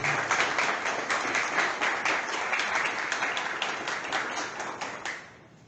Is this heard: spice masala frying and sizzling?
no